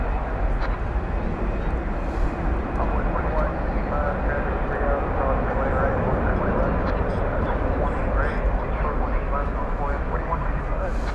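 A 32-year-old airliner taxis toward takeoff at DFW Airport, its engines a steady, broad, distant roar that holds evenly throughout over continuous outdoor rumble.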